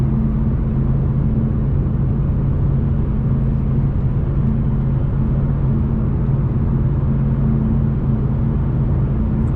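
A Ford Mustang GT cruising along an oceanside road, its engine and road noise forming a steady, continuous low rumble from inside the car, with no talking.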